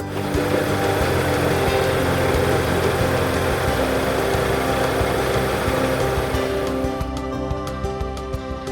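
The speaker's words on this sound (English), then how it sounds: "With the engine running, I can now check for any oil leaks." A 2021 Mazda CX-3 engine idles steadily while raised on a lift, a continuous low hum and rumble running throughout at close range, with no voices.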